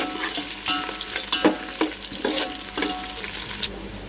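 Onions and green chillies fry in hot oil for bagara rice, a steady close sizzle broken by repeated scraping strokes of a spatula against the pan, with no voices.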